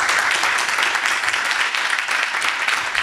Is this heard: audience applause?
yes